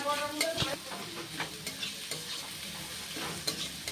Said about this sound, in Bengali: এবার এই রসুন, পেঁয়াজ আর কাঁচা লঙ্কা একটু সময় ধরে ভেজে নেব।